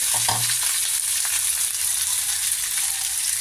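Leftover cold rice sautéed in a pan, a loud, dense, continuous frying hiss with a brief low scrape of stirring at the start, close up.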